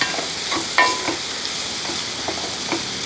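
A salted dish sizzles as it fries in a pan while a spoon stirs it, giving soft scraping strokes over a steady close frying hiss.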